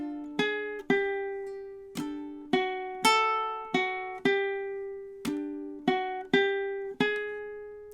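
Measures 9 and 10 of a theme tune played on ukulele: a string of about fourteen plucked notes in a jaunty, syncopated rhythm, each ringing briefly, close and alone without talk.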